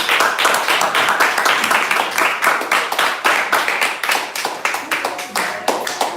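A small audience clapping in a rhythmic, fairly synchronized pattern of distinct claps, close and loud, with some voices underneath.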